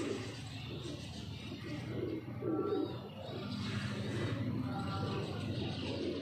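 Royal Teddy pigeons, a cross with Rampuri birds, coo in low, repeated throaty pulses amid steady background murmur from the flock, close by and fairly continuous.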